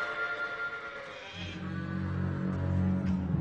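Sheep bleating in a cartoon scene, a few moderately loud, drawn-out cries followed by a low steady rumble underneath.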